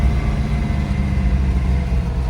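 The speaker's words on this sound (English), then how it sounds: "Downshift going into the roundabout." A 1967 Shelby GT350 V8 with a four-speed gearbox downshifts on approach to a roundabout, a steady close mid-range engine rumble heard from the cabin throughout.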